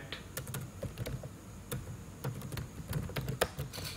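Quick, irregular clicks of fingers typing on a computer keyboard, fairly close and soft, running steadily for a few seconds with brief pauses and no talking.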